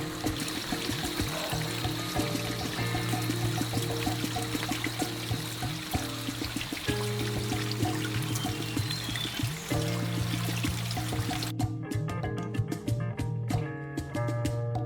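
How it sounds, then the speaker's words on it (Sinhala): A small stream of water at Bathwadigala runs low after little rain, giving a continuous close trickling and pouring sound with no one talking. "මෙන්න මේ පුංචි වතුර පාරක් තමයි යන්නේ."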